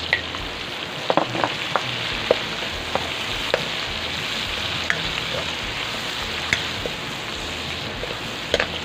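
Garlic, onion and tomatoes sautéing together in a pan for Filipino mung bean stew, a steady close sizzle with scattered sharp pops and crackles, no voices.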